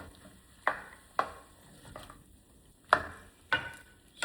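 A spoon stirring a stew of crushed tomatoes and butternut squash gives five separate scraping, sloshing strokes at an uneven pace, fairly close, with quiet gaps between them.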